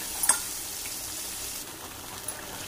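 Masala paste frying in oil for a fish curry, a steady close sizzle with soft crackle throughout and a couple of brief stirring clicks near the start.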